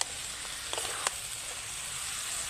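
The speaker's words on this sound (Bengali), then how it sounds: "আবারও কিন্তু 1 থেকে 2 মিনিট মতন কষে নেব" Pointed gourd (potol) curry with chana dal sautéing in a pan gives off a steady hiss of frying, with a few soft clicks and pops and no talking.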